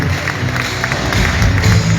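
A church congregation applauds steadily for about two seconds, a dense, even wash of clapping filling the room with a faint murmur of voices.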